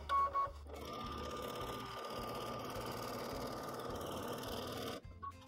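A sewing machine runs steadily for free-motion quilting around appliqué flower petals, a continuous close mechanical hum with a brief stop and restart near the start and a halt just before the end.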